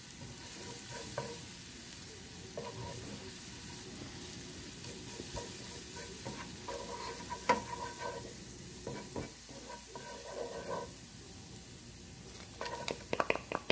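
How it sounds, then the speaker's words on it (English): Onion sautéing in a pan with minced garlic and ginger for a steak and vegetable stir-fry, a steady soft sizzle with occasional stirring scrapes and clinks, fairly quiet and continuous with no talking. "So that's about ½ cup of onion, and I'm going to allow this to saute nicely."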